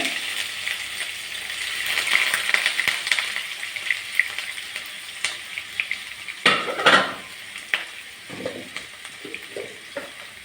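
Onions sauté in a pan for vendakkai mulaku kuzhambu, giving a continuous close sizzle broken by scraping stirs and several sharp clanks of a ladle against the pan, with no talking.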